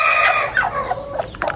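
A hen sitting on her eggs clucks steadily and close by, a run of throaty, rising and falling calls with a few sharper notes near the end.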